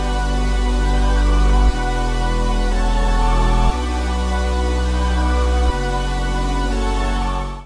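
Nexus Dance Saw 6 synth preset, EQ-isolated from a song section: bright, buzzy saw chords sustained in long held blocks that change about every two seconds, loud and steady, then fade out.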